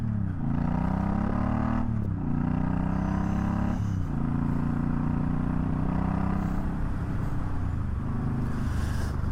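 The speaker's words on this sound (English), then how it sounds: "So I'm in top gear right now, just to show you how much torque this has" A Suzuki Boulevard M50 cruiser motorcycle rides in top gear, its engine giving a steady low rumbling drone that rises and dips slightly with throttle, loud and close throughout with no talking.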